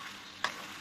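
Onions fry in oil for a tuna pasta with a soft, steady sizzle, faint and close, broken by one brief sharp click midway.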